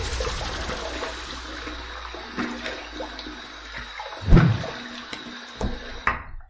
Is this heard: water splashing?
yes